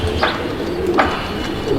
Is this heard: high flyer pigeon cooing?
yes